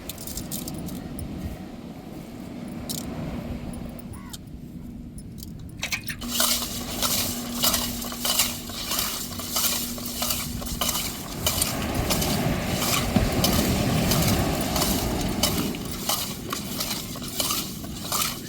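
Stingray fish being rubbed and scrubbed with coarse rock salt by hand: steady gritty scraping and rustling with scattered metallic clinks, continuous throughout at close range, with no voices.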